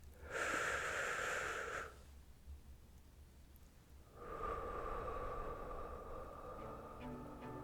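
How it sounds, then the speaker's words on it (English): A slow, deep inhale and long exhale taken to relax, close and clear, with a quiet pause between the two breaths and no talking. "Let's take a deep breath to relax."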